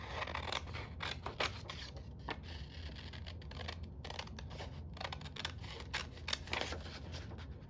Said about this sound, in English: Let's cut green gown out.